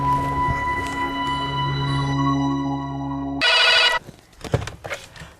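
A phone rings loudly in a repeated electronic tone, then stops abruptly and is followed by a few faint rustles and clicks.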